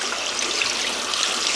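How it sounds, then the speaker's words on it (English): Cold tap water pours steadily over cooked pasta in a kitchen sink, a continuous bright splashing hiss at close range with no voices. "I'm gonna go ahead and hit it with some cold water"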